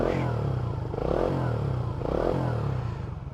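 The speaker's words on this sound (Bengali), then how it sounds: "Quick থার্টল and bike start. এক্সজস্টের সাউন্ডটা না সুন্দর" Modified Suzuki GSX-R motorcycle engine running with a steady, loud exhaust note, rising in two brief throttle blips around the middle and end, close by with no talk.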